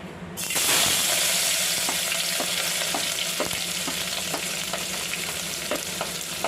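Ground masala paste hits hot oil for a Maharashtrian ghevda aamti, setting off a loud, dense sizzle that swells at once and holds steady, with faint spoon clicks now and then and no voices.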